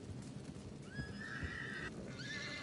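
A horse in the Red Dead Redemption video game whinnies at a camp, a rising then wavering neigh standing out over a low rumbling background, with a second shorter whinny near the end.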